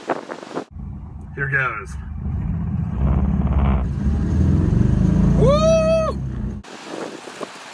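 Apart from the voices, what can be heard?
Subaru BRAT accelerating at full throttle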